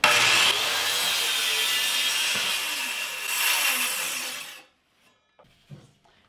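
A circular saw rips a thin strip from a wooden board, a loud, bright cutting roar for about four and a half seconds, then stops abruptly, leaving a few faint knocks.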